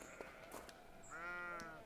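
A sheep in the video game Scarlet Deer Inn gives one clear, wavering bleat, close and fairly faint, preceded by a few soft clicks and small game sounds.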